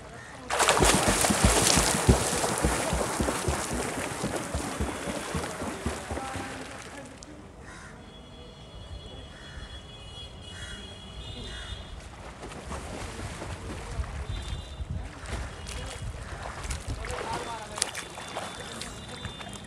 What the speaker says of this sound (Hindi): पहले सिर्फ आपने किक की प्रैक्टिस करनी है कैसे ये देखो